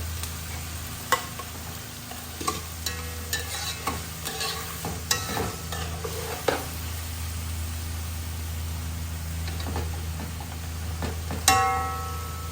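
Pre-boiled pork pieces with bone go into a pan for pinapaitan, giving a steady frying hiss punctuated by repeated clacks and scrapes of stirring, moderately loud and close, indoors.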